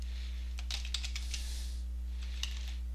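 Typing on a computer keyboard in Windows, two short bursts of rapid key clicks separated by a pause, close and clear over a low steady hum.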